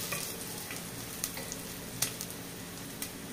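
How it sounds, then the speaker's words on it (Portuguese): Onion frying in olive oil in a pan gives a steady close sizzle and crackle throughout, with a few sharper pops and scraping stirs standing out above the bed of noise. "aqui na panela eu tenho cebola e azeite,"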